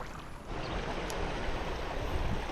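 A waterfall on a river in Aveyron, where chub are being fished with a spoon lure, rushes in a loud, steady wash of white noise with no talking.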